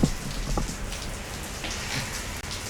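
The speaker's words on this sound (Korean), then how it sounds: "소나기가 갑자기 엄청나게 쏟아지기 시작했어요." A sudden heavy rain shower pours down, dense pattering of raindrops on surfaces with a few sharper nearby drips, steady and close.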